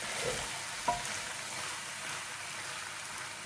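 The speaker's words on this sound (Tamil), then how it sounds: "இது சிறு தீயில் வச்சு சிறு தீ பெருத்தின்னு மாறி மாறி வச்சு இதை வதக்கி எடுக்கணும்" Shark fish sautés in oil in a pan over low heat, giving a steady, soft sizzle and crackle throughout with a single small clink near the start; no talking.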